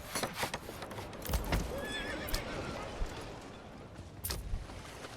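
Horses tied at hitching posts in the medieval village-building game Manor Lords, with repeated clip-clop hoof steps and a clear whinny rising in the middle, faint talk underneath.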